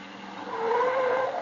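A car's tyres squeal as it skids to a stop: a single screech that rises and holds for about a second, carried on a thin, band-limited vintage film soundtrack with no talking.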